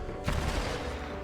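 Gunfire from the L-STAR energy weapon in the video game Apex Legends, a short burst of rapid shots starting sharply and ringing on for about a second, close and loud with no talk over it.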